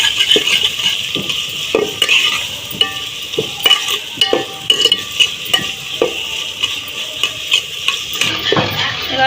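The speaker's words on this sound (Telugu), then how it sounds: "తర్వాత టమాటా వేసుకున్నాము ఒకటి కట్ చేసుకున్న టమాటా ఈ టమాటా కొద్దిగా మగ్గాలండి బాగా" Tomatoes fry and get stirred with onions and green chillies in a pan for a village-style country chicken curry. A steady sizzle sits under repeated scraping and clinking of a utensil against the pan, with no voices.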